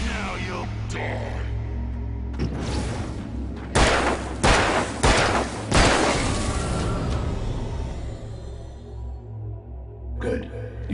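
Gunfire from the video game Alan Wake: a handful of sharp, loud blasts in quick succession followed by a decaying rumble, over a low steady hum with a late softer burst.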